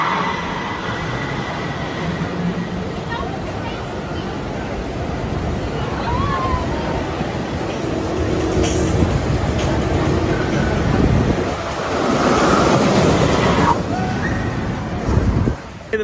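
Loud rushing wind and rumbling track noise of a fast launched roller coaster ride at night at Cedar Point, roaring steadily and surging louder near the end, with faint voices mixed in.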